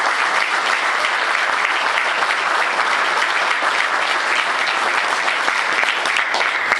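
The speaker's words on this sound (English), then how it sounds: "And if we could have a round of applause, please." Loud, dense round of applause from an audience at the Garde Theater in New London, honoring the theater staff, continuous and even throughout with no gaps.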